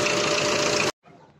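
An MTZ-82.1 tractor hauling firewood runs with a loud, steady engine drone close by. The sound cuts off abruptly and returns much fainter, with no speech.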